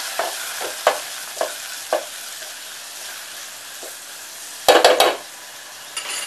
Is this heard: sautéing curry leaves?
yes